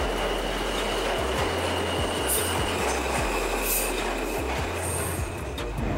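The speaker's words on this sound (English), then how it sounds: "Here's a train." A train rumbles past close by in New York City, steady low roar with rhythmic clacks of wheels over rail joints and faint high squeals.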